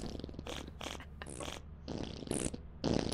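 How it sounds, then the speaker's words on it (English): Rapid bursts of farting noises in the game Lethal Company, several separate raspy blasts in quick succession, fairly close and loud, with no talking over them. "they're just farting up a storm over there"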